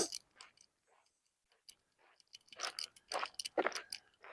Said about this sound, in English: you can hear my feet crunching in the gravel